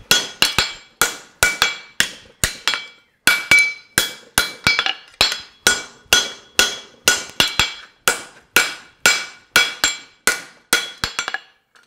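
Hammer bumping a reverse horseshoe on an anvil for Mustad E4 nails: about two dozen sharp ringing metallic strikes in regular groups, close and loud with brief pauses between.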